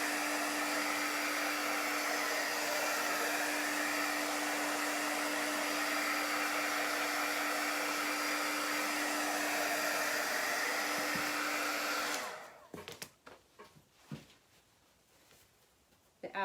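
A hair dryer blows loud and steady over chalk paste lettering for about twelve seconds, then cuts off, leaving quiet handling noises and soft rustles.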